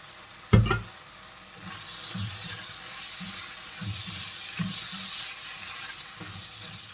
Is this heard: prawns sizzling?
yes